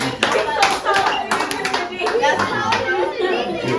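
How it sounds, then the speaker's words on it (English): A school assembly crowd claps for a visiting speaker, irregular bursts of hand claps mixed with chatter and young voices throughout, fairly close and moderately loud. "Y'all can clap for that right now."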